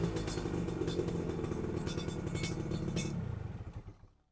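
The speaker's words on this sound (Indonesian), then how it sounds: "Untuk motor ini kondisi mesin sangat halus ya." A two-stroke motorcycle engine with a racing exhaust running at idle, a rough rapid rattling putter with metallic clatter, close and steady, then cutting off and dying away to quiet in the final second.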